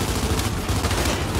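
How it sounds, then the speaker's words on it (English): Rapid gunfire crackles in the video game Gears 5 on a headshot, a dense burst of loud, harsh shots packed close together over little more than a second. "what a headshot sound"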